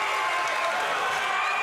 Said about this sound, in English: the crowd rises to their feet